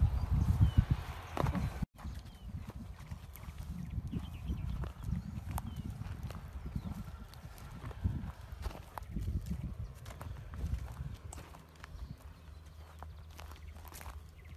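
A horse walks around a rural refuge with a rider aboard, its hooves clip-clopping in an irregular steady rhythm at close range, with some faint background noise.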